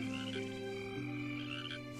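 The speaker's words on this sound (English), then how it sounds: "And frogs." Frogs croak at night in a steady chorus, with long overlapping calls holding through the whole stretch at moderate loudness and no talking.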